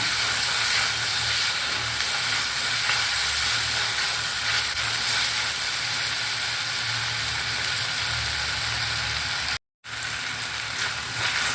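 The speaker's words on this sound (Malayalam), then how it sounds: "ഇനി നന്നായിട്ടൊന്ന് ഇളക്കി കൊടുക്കാം" Steady, loud sizzling and hissing from a hot pan as a chilli curry with tomato is stirred, broad and continuous, with a brief drop to silence near the end.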